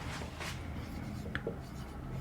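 Someone writes an example on a board, leaving faint, soft scratchy strokes in a quiet room. A few short strokes come early and another comes later, all low in level with no clear speech.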